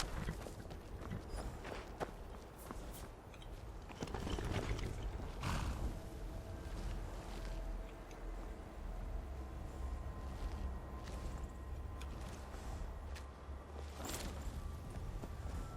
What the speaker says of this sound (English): Let me try and steal this horse.